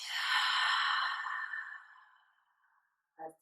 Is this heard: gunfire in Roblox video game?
no